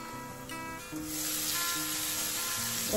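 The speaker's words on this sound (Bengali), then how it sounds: "আলু আর কাঁকরোল দিয়ে একটুখানি ফ্রাই টাইপের করছি" Potato and kakrol fry in a pan with a steady hiss that swells into a louder, broader sizzle about a second in. A few tonal hums sit underneath, and no one speaks.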